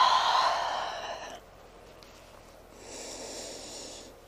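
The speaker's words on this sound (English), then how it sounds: "Deep breaths." Deep breaths during a vinyasa yoga flow: a loud, airy exhale through the nose, then a quiet pause and a softer inhale, close and with no talking.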